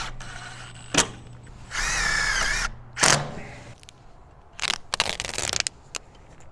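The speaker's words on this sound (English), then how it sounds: "We're going to continue screwing off the rest of the window" A power drill unscrews fasteners from a window on a metal shop building, with several short whirring bursts, one longer whining run, and clattering handling knocks between them, with no talk.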